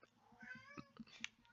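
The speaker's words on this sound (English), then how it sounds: "That's my cat yelling in the background." A cat yowls and meows in the background, a series of drawn-out, wavering cries over a soft rhythmic thumping, fairly faint and with no talking.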